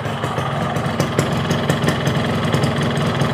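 A Kawasaki KR two-stroke motorcycle engine runs steadily nearby with a rough, buzzy idle and faint rhythmic pulses, alone with no voices.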